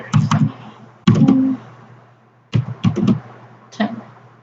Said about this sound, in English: Backspace over the network ID and type 1010